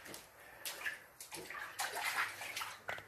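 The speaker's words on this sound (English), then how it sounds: "we're about to leave because our house is now flooding" Flood water inside a house flooding during Hurricane Harvey: close, intermittent sloshing and splashing as water is stirred and moves in uneven surges, fairly quiet, without speech.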